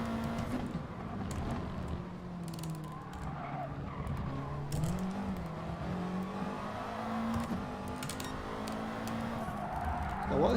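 A Subaru MR race car in GT Sport revs hard, its engine note climbing and falling steadily over tire skids, loud and continuous throughout.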